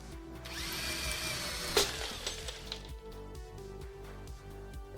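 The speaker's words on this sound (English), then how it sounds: "Using the drill on the cookie jar will work." A battery-powered drill used on a cookie jar inside a video game: a sharp glassy crash and shatter near the start of a sustained whirring, grinding drill-like noise, followed by rhythmic mechanical pulses over a dense game soundscape.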